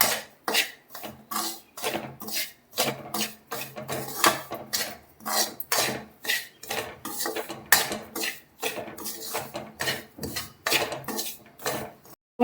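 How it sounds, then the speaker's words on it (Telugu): Ragi laddu ingredients being slowly dry-roasted on low heat in a pan, with a steady run of scraping, clinking spatula strokes against the metal, rhythmic and close, with no talking. "ఇవి మాడిపోకుండా నిదానంగా వేయించుకోవాలి, సిమ్లో పెట్టుకొని."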